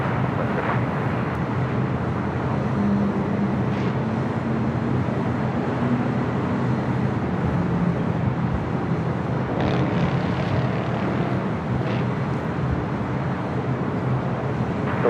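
A China Airlines Airbus A350-900 taxiing at LAX gives a steady, broad jet engine rumble and whine from a moderate distance, constant throughout with faint airport background noise.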